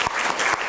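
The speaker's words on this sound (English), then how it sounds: "So I'd just like to give them a round of applause for all the work that those two guys have done" Audience applause at a talk on placemaking in Australia, a short steady burst of many hands clapping close up and filling the whole moment with no voices over it.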